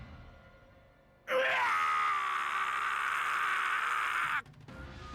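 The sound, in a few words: dying character screaming in video game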